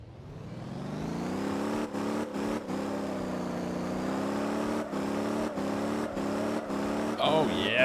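A car engine in drift mode in the Motor Town driving game revs and holds a loud, steady drone that rises and dips slightly, with brief gaps where shifts or throttle lifts interrupt it.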